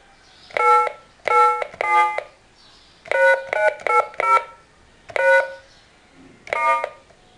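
DTMF dialing tones from a telephone connected to a PIC microcontroller PBX card: a series of short, clean beeps, some in quick clusters and others spaced apart, each sounding alone against a quiet background.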